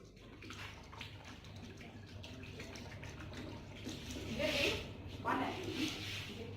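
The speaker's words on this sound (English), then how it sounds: "We have to clean our hands until it's clean." Running tap water splashing steadily as hands are washed in a kitchen before making black sticky rice tapai, with quieter splashes building toward the end and a voice talking underneath.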